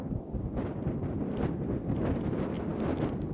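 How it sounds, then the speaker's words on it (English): Steady wind gusting across a microphone on the Devon coast, a continuous low roar with rushing swells, loud and close throughout, no voices. "I certainly want to be out of this wind."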